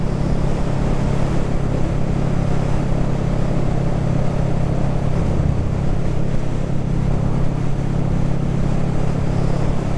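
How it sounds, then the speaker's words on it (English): Steady engine drone from a car or motorcycle engine braking in a lower gear on a ride along a river, a continuous low hum with rushing wind noise and no talk. "Give the engine a brake and go down a gear."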